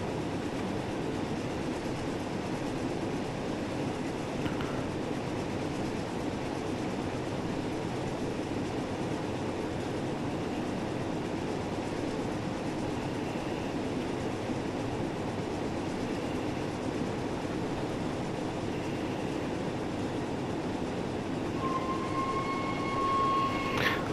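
Flying Scotsman steam locomotive in Train Sim World 4 on the Fife Circle Line, heard as a steady, broad rail rumble with a constant running roar and a brief high whistle-like tone near the end.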